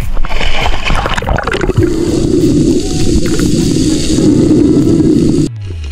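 A strong river current heard underwater: a steady, loud rushing and gurgling wash with bubbly splashes early on, continuing for several seconds before cutting off abruptly.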